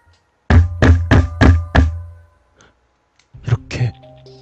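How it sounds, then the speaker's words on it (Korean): Knocking on an apartment door locked with a key and no door lock: five loud, sharp raps in quick succession, then a pause and a quieter pair of knocks under a faint murmur. "또 문 두드리는 소리가"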